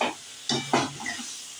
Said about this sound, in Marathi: मशरूमला छान परतून घ्यावं.